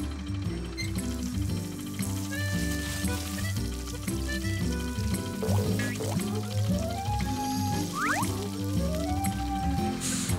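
Cartoon water pours onto a tree in a steady gurgling, splashing wash lasting several seconds, with rising whistly tones from the filling stream over a busy background bed.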